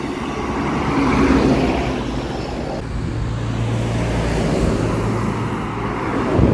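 Traffic on a roadside in Tahiti, with cars passing one after another in a continuous swell of tyre and engine noise, fairly close and steady, no talking.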